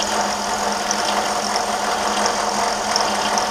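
A milling machine spins a 1/2 inch two-flute cutter at about 700 RPM while machining a lamp shade support bracket, giving a steady, continuous mechanical hum and whir close by with no talking.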